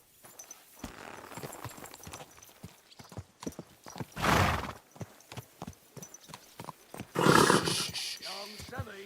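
Steady clip-clop of horse hooves trotting close by in the video game Kingdom Come: Deliverance II, broken by a loud neigh midway and a longer whinny near the end.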